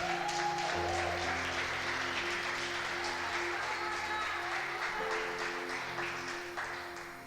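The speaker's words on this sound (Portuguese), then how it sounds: "Aplauda Jesus." A church congregation claps together at a worship service, faint and steady throughout under sustained organ or keyboard tones, fading slightly toward the end.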